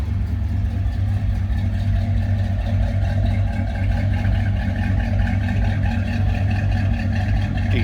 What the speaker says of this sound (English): Deep throaty rumble coming out of that